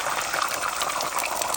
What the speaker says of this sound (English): so what I'm going to do now is fry these 2 eggs